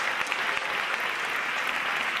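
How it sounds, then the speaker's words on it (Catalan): An audience applauds a band at a tribute concert, a dense, steady wash of clapping that holds at an even level throughout. "Jo us demano un aplaudiment molt fort per ells."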